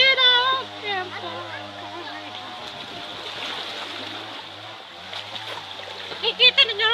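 Water splashes and churns as people bathe in a river, close and fairly loud, with voices talking and calling over it and a few sharper splashes near the end.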